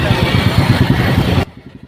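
A motorcycle engine rumbles loud and close in a heavy traffic jam, then the sound drops sharply to a quieter, lower running note for the last half second.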